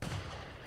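Gunfire in the video game Resident Evil Village: one deep, booming shot at the start that fades into a low rumble and lingering game ambience.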